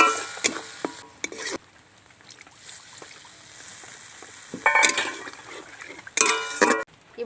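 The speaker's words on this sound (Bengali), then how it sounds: "এবার আমি জল দিয়ে দিচ্ছি।" Water poured into a hot cooking pan of fried spices, with bursts of sizzling and splashing liquid, the pan quieting between pours.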